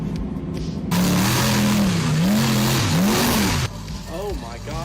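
Unmuffled pulling-truck engine revving in Rigs of Rods at a county fairgrounds truck pull: a loud, raw, rising and falling engine roar with wavering pitch, steady throughout and dropping off near the end.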